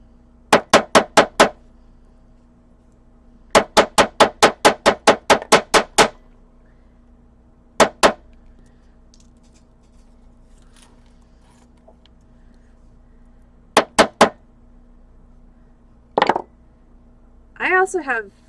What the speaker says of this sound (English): I'm going to flatten them with the convex side of my chasing hammer